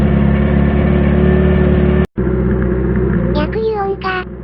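A Honda CB400F motorcycle with a hand-bent short exhaust idles loudly and close, a steady, throbbing rumble with a brief cut partway through and a few higher blips at the end.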